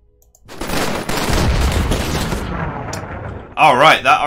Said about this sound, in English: that artillery did support this unit, so there's also artillery support